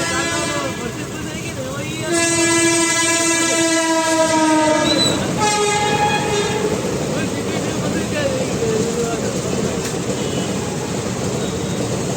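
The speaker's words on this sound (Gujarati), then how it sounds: "ટ્રેન આવી ગઈ છે હમણાં હું નજીકથી બતાવું આવી ગઈ છે" A train sounds a long horn as it passes a level crossing, with steady rumbling rail noise throughout and voices around it.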